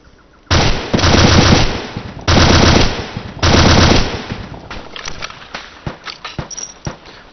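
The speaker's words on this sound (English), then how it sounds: "Looks like we're taking some fire from down the hill here." Machine gun fire in ARMA 2 comes in three loud, sustained bursts of rapid automatic shots, each lasting about a second or more. Scattered shorter shots and fading echoes follow.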